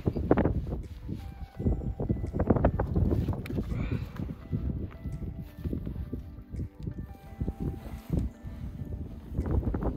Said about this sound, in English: It's kind of windy in here